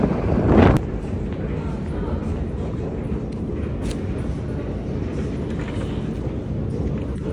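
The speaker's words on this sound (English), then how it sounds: "The weather is quite windy." Steady wind buffeting the microphone, a loud, continuous low rumble with a brief gust near the start.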